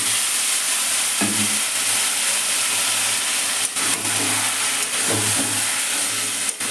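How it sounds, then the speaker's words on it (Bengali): Marinated chicken fries in a low-oil wok with no water added, giving a loud, continuous close sizzle broken by several sharp stirring clanks and scrapes, with no talking. "এবার আমি মাংসটা দিয়ে দেবো।"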